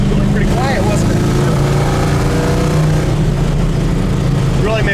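A 1965 Chevelle SS with a 327 V8 runs while driving, a loud, steady engine drone with rising and falling pitch as it pulls, and voices talking over it inside the car.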